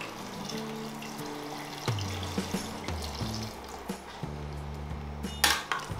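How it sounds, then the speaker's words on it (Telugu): Water is poured into a pot for chicken biryani, a splashing, gurgling stream close by, with the faint knock of metal cookware and a short louder splash near the end, and no voices. "ఇప్పుడు దీన్ని ఒకసారి మంచిగా కలుపుకుని 300 ml వాటర్ ని పోస్తున్నాను."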